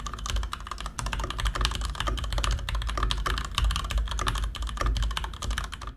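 Rapid, steady typing on a Varmilo VA87M Sakura mechanical keyboard, with close, crisp key clacks in a continuous run and no talking.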